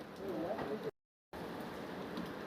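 Steady rain falls with an even, continuous hiss that cuts out briefly for a moment of silence before resuming at the same level.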